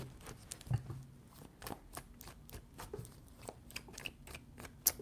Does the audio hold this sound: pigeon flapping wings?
no